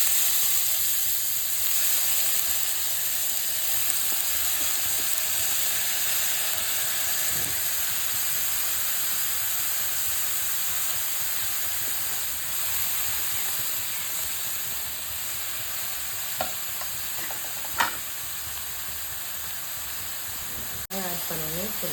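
Onions and fennel seeds fry in hot oil in a kadai for a paneer bhurji, giving a steady close sizzle and hiss throughout with a few faint clinks of stirring near the end.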